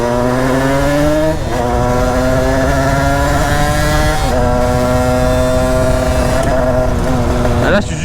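A Derbi moped with a 70cc Metrakit kit engine revs loud and close, its buzzing two-stroke pitch rising in long sweeps, dropping and climbing again as the rider accelerates.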